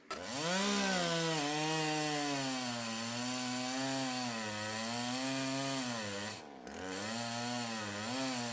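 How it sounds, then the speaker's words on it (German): A power saw cuts the outline of a yew wood bow blank, its whining motor tone rising and dipping steadily as it bites through the wood, with a brief pause near the end before cutting resumes. "jetzt sägen wir noch die Silhouette aus."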